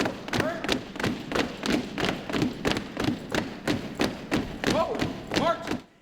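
Students at an enlistee ceremony marking time, a regular series of heavy footfall thuds in steady rhythm, close and clear, with a voice calling commands.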